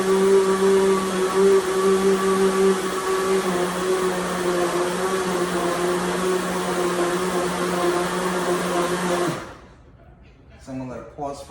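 A blender runs steadily, mixing flan batter with cream cheese for a Grand Marnier chocolate flan, a loud continuous whir for about nine seconds before cutting off abruptly into near quiet.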